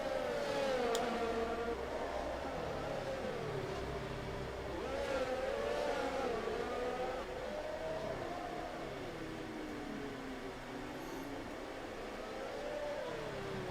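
F1 race cars in a video game at the Monaco Grand Prix, an Aston Martin and a Mercedes running side by side, their engines whining and rising and falling in pitch continuously at moderate volume.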